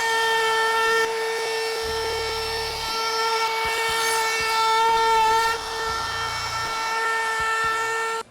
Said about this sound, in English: put a small chamfer on the very top of this table. And I'll do this with my palm router